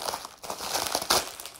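Plastic parcel packaging from an AliExpress order crinkles and rustles up close while being opened, a steady crackling with a sharper crunch near the end, no speech.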